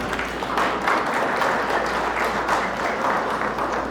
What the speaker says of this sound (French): applaudis, on applaudit